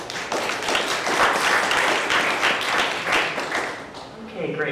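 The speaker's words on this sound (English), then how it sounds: "So everybody give them a round of applause for being here." A conference audience at a virtual reality journalism panel applauds the panelists, a dense, loud, steady wash of many hands clapping that carries through the whole stretch and tapers slightly at the end.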